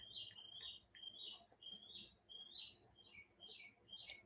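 Birds chatter in a steady run of bright, quick chirps, one short burst after another, fairly close over a faint low background hum.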